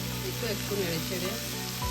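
Lai leaf greens and lentils fry in a hot pan with a loud, constant sizzle while they are stirred briefly.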